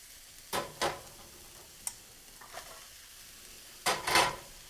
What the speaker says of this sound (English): Now we're going to add the cauliflower and the carrots.